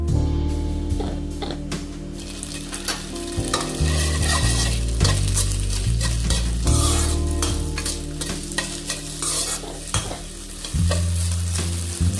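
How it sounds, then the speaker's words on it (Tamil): Sago stirred in hot ghee in a pan for sweet kesari, a loud continuous sizzle and fry with steady scraping strokes of a spoon, close and unbroken, no voices. "நெய் நல்லா சூடான ஜவ்வரிசி போட்டுக்கணும். போட்டு நல்லா கிண்டணும்."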